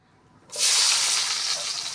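Chopped onions hit hot oil in a pan for a chutney, and a loud, sudden hiss of frying bursts in and holds steady without fading.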